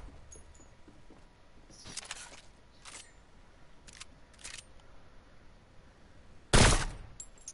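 Gunfire in a PS4 shooter game: a few short bursts of shots spaced across the clip, then one loud close blast near the end, with no talking.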